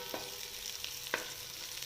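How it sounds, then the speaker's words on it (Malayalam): Chopped onion frying in hot oil in a pan, a soft low sizzle with a couple of sharp stirring clicks from a utensil, fairly faint and with no talk. "ചൂടായതിനു ശേഷം നമുക്ക് ഈ അരിഞ്ഞു വെച്ചിരിക്കുന്ന ഒരു സവാള ഇതിനകത്തേക്ക് ഇടാം."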